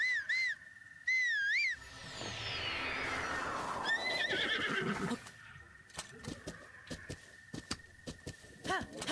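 In a video game, a horse gives loud, wavering neighs and whinnies, followed by a series of sharp hoof clops and knocks.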